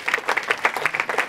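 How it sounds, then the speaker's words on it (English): An audience breaks into brisk applause at a mindset and sales talk for CEOs, a dense, close burst of many hands clapping that continues steadily through the moment, no voices standing out. "Give a round of applause."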